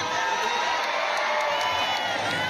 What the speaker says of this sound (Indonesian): Sorak-sorai masyarakat dan keluarga mempelai pun tidak terbendung menyaksikan kebahagiaan para pasangan mempelai setelah resmi menikah